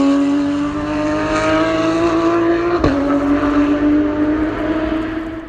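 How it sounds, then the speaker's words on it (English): A Porsche 911 GT3 RS doing a flat-out burnout from the start line, a loud, close, sustained high engine wail with a brief dip and recovery midway, tire roar underneath. "it's a 911 GT3 RS doing just a flat out burnout from the start line"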